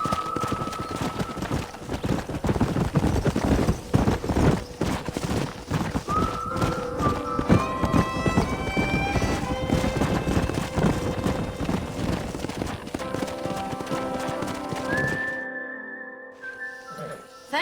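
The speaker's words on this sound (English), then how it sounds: "We got some fine horses." Horses trotting with clip-clop hooves in the Red Dead Redemption video game, a steady rhythmic clatter running loud and dense throughout alongside music and other game sounds, cutting off sharply near the end.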